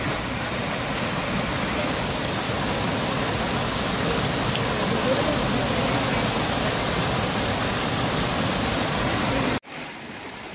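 Steady, dense rushing of a stream and waterfall on a trail in the Sahyadri hills, loud and continuous for nearly ten seconds before dropping abruptly to a quieter wash.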